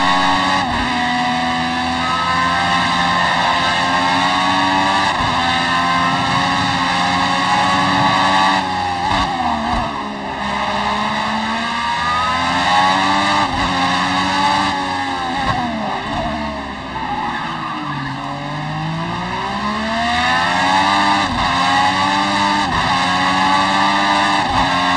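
A race car in Project Cars 2 roars continuously at close range, its engine pitch sweeping up and down through gear changes, with occasional tire scrub as it takes corners.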